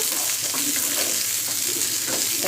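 Tomatoes fry for sambar in a close, continuous sizzle with soft stirring scrapes, a dense hiss that runs unbroken and fairly loud without any talk.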